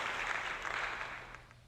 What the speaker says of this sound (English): Give yourselves a round of applause. My virtual audience cheering you on.